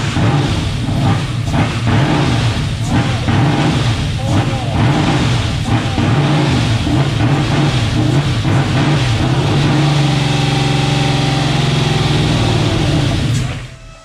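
A 10.3L supercharged big block engine runs at a rough, loping idle and revs repeatedly in steady pulses, loud and close, then settles and cuts off, with people talking over it.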